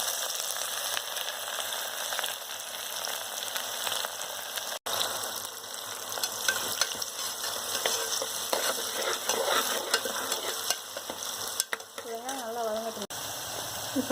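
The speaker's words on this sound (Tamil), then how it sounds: "இப்போ வெங்காயம் போட்டுடலாம்." Onions fry and sizzle in oil for a curry leaf biryani, a steady, fairly quiet crackling hiss with occasional stirring clicks and a brief voice near the end.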